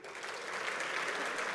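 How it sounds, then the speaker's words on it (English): A tech session audience gives a round of applause for one of its members, steady dense clapping that holds at an even level throughout, with no talk over it. "Like a huge round of applause for him"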